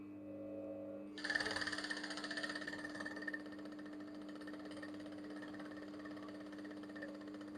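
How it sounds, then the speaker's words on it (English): A sewing machine stitches down a blouse yoke, starting after a second with a rapid mechanical whirr that runs about two seconds, then gives way to a low steady hum in a quiet room. "So now I can now sew my yoke down."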